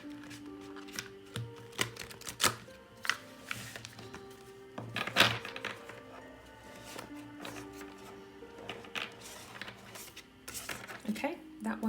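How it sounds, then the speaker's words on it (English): Soft, irregular papery shuffling and light slaps of cards handled close by, over a steady low hum, with brief quiet pauses between bursts. "I want to shuffle some more for you guys"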